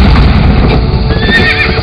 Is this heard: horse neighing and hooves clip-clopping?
yes